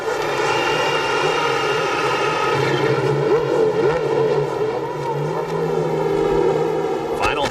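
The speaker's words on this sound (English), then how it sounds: "Gentlemen, start your engines" Several CART Champ Car race engines fire up and rumble together on the Long Beach Grand Prix street-circuit grid in 1998, a steady dense drone with rising revs and whine, with crowd noise and an announcer's voice in the background.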